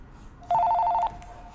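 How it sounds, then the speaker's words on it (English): An incoming call sets a telephone ringing in one short, loud burst of rapid electronic trilling that stands out against a quiet room. "Oh, hey, we got a phone call."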